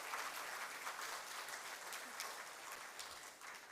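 An audience applauds a guest speaker at a 2024 talk in a hall, a steady, even wash of clapping heard from some distance and fairly faint, continuing without voices for a few seconds.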